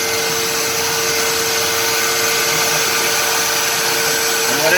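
A CNC router with a 1/4 inch bit cuts a puzzle vac jig, giving a loud, steady whine and roar that runs unbroken and rises slightly at the end.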